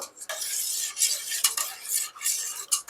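A spoon clinks and scrapes around a pot while stirring milk thickened with milk powder, quick irregular metallic strokes over a soft background, close and clear.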